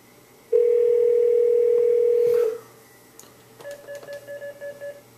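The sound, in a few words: telephone dial tone while calling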